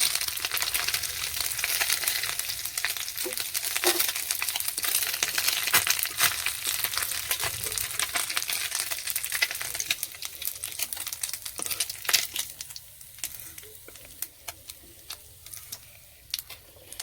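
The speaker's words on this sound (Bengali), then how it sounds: "আমার মোটি মাছ ভাজা হয়ে গেছে, এবার তুলে নিচ্ছি" Fish frying in a pan of oil sizzles with a busy, continuous crackle that thins out toward the end, with scattered ticks and clinks of a spatula against the pan.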